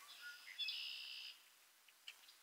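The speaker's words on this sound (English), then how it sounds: "Birds are singing." Faint birdsong drifts in on a bright sunny day: a thin high trill for about a second, then a few scattered soft chirps fading out.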